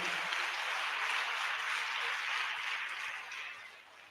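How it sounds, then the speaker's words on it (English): Dense, sustained applause from a crowd at a school borehole handover ceremony, a loud wash of many hands clapping that gradually fades toward the end. "round of applause for every individual that's on this stage"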